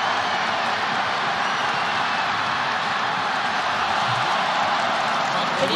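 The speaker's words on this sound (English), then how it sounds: "Can you hear the crowd" A football stadium crowd roars steadily and loudly during a touchdown run, a dense, continuous wall of cheering with no breaks, joined by a game commentator's voice.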